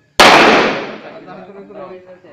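A single sharp 9mm Armscor pistol shot at a firing range cracks out loud and close, its echo decaying over about two seconds while muffled voices talk underneath.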